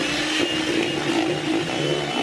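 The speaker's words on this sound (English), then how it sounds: "and now we'll just whisk that through" An electric hand mixer whisks sugar into egg whites for a meringue-like mixture in a chocolate bread batter, a steady continuous whir at close range with no talking.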